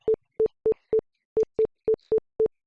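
A computer mouse connecting or disconnecting sets off a string of nine short, identical electronic beeps in an uneven rhythm, loud and clear against silence, with no talking.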